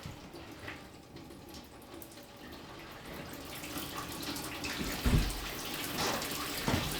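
Hot water shower running in a barn being renovated in New Zealand, a steady soft hiss of flowing water throughout with slight splashing and a couple of brief thuds near the end.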